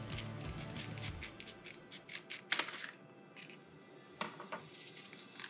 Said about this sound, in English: So I'm gonna mark this, take some scissors and cut it right over here.